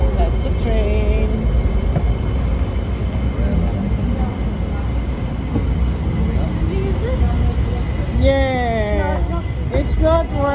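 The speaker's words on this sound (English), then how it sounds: "That's the train." Train passing in Kuala Lumpur, heard as a steady loud rumble of rail cars with squealing metallic wheel tones rising near the end, continuous throughout.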